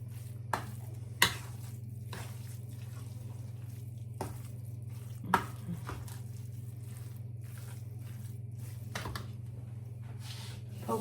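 Food being stirred in a frying pan during home holiday cooking, giving a steady low sizzle with a handful of sharp scrape and clink accents spaced irregularly throughout, close and fairly quiet.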